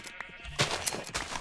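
Sheep bleating in the Minecraft video game, several short game-sound bleats overlapping at close range, loud bursts with brief gaps between them and no talk.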